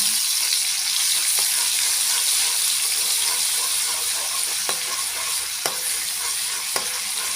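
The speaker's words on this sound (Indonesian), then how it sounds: "ini saya mau numis bumbunya, dan ini minyaknya sudah panas, saya masukkan dulu" Spice paste sautéing in hot oil in a pan for sayur asem with fish, a steady loud sizzle with occasional crackles and stirring scrapes throughout.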